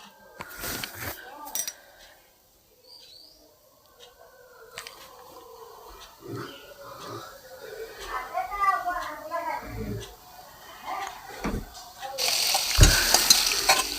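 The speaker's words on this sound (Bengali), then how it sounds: "তারপর কড়াইতে একটা একটা একটা করে দিয়ে দিলাম।" Hilsa fish pieces rubbed with turmeric and salt, set one by one into hot oil in a wok, with scattered clinks and bursts of spitting sizzle, a voice talking over parts, and a loud sizzle at the end.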